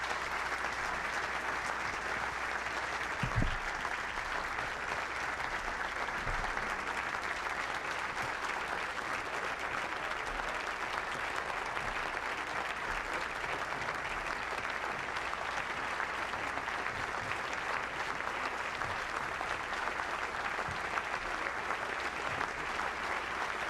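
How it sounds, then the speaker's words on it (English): An audience at a voters forum at St. Anselm College applauds to welcome the candidates, a sustained, even roar of clapping from a large crowd lasting over twenty seconds, with a couple of low thumps along the way. "So please welcome the candidates."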